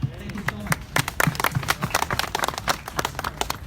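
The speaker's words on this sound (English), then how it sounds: "can we give a round of applause" Scattered clapping from a small audience at an outdoor Rohingya community demonstration in Melbourne, uneven and sparse, with a voice briefly audible underneath.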